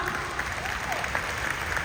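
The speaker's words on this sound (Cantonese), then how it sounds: "親自站台，俾啲掌聲我哋老闆好唔好？" Audience applause for a company boss at a motivational seminar, steady dense clapping from a crowd filling the whole moment.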